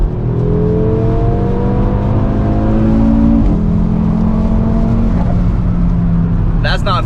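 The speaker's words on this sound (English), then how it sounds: "So we're just cruising, and yeah, let it go up to 7th gear." A 2019 Audi RS3 with a tuned engine accelerates hard through the gears, its loud engine note climbing steadily in pitch with gear-change dips, recorded from inside the car, with a brief burst of cabin noise near the end.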